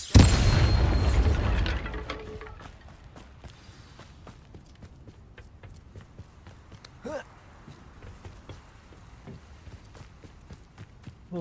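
A Bombarda spell explosion from the Hogwarts Legacy video game, heard as one loud, booming blast at the start that fades within about two seconds. Quieter footstep-like taps and small effects follow.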